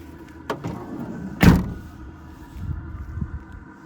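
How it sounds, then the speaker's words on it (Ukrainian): A 2014 Nissan Primastar van's stiff sliding door thuds shut with a sharp bang after a short rattle, followed by faint mechanical clunks and low rumble. "щоб закривати ці двері, потрібно допомагати ось цим штукам, тому що вони не йдуть"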